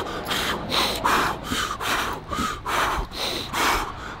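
A lifter demonstrates incorrect breathing for a lift, with a run of about eight loud, close, rhythmic breaths pushed in and out at a steady pace, each a rough airy huff with no words spoken.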